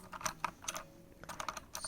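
Typing on a small Redragon wired mechanical gaming keyboard: clusters of sharp, clicky keystrokes in uneven bursts, close and fairly loud, with no talking.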